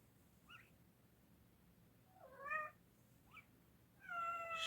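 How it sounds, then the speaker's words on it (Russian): Indoor cat yowling, four drawn-out meows with pauses between them, rising in loudness toward the last, heard alone against a quiet background. "кот орет"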